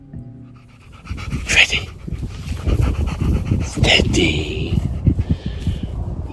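Dog panting steadily on a walk in Malvern Hills, Western England, quick close breaths repeating in rough rhythm while a person speaks briefly over it.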